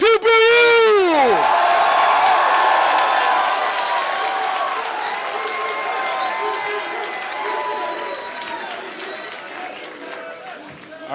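A large crowd at a Super Smash Bros. Melee esports tournament cheers loudly and applauds a player, with whoops at the start that fade into sustained clapping and crowd noise.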